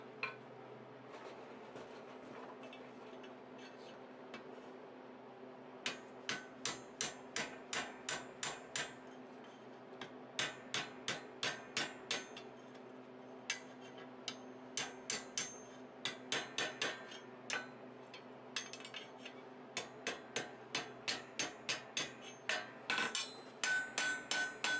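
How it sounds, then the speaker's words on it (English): Rapid bursts of ringing hammer blows strike a metal ring on an anvil horn during forging, in quick rhythmic series separated by short pauses, over a steady low hum. "you hammer down on the section of the ring that is attached to the handle"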